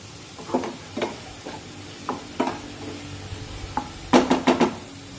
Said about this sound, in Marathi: साधारण 1 मिनिट मी हे सर्व मसाले परतून घेतलेले आहेत